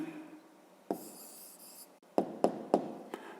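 A pen scratches across paper while writing a math answer, with short scribbling strokes and a few sharper taps, close and quiet in an otherwise silent room.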